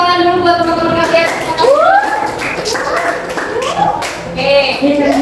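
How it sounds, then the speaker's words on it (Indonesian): Students in a classroom clap their hands in brisk rhythmic bursts, mixed with children's voices and a teacher talking, the claps close and fairly loud amid the chatter. "Tepuk tangan dulu buat teman-teman kalian."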